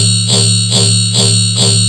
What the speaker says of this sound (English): This Convolver, this is hybrid reverb, which sounds amazing.